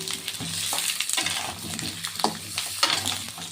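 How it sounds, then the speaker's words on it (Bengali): Potatoes sizzle in hot oil in a pan with well-fried onions, close and steady, while a spatula scrapes and stirs in repeated strokes across the bottom. "আলুগুলো ভালো করে ভেজে নিই"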